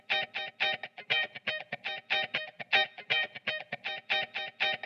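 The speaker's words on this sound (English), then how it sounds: "Okay, again, I'm going to go small reverb on this one." A gritty electric guitar line with a small reverb, playing a fast, even run of short plucked notes in a steady pattern, with only slight tails between them and no voices.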